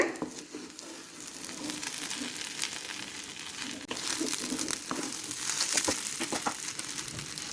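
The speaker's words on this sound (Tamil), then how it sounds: "இப்போ அந்த முட்டை நல்லா அந்த சேமியா கூட மிக்ஸ் ஆகிட்டுது" Half-cooked egg is stirred into vermicelli in a frying pan, with a steady close sizzle and scraping, crackling stirring noises that grow slightly louder toward the end, with no talking.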